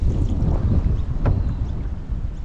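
Strong gale gusts across an open lake during canoe camping, buffeting the microphone in a continuous loud low rumble with surging gusts.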